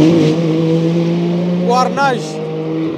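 Le Mans endurance race cars, a Porsche from Manthey and a BMW from WRT, at the high-speed Indianapolis corner, sweeping past with sharp rising and falling engine whines under a voice talking over the trackside roar.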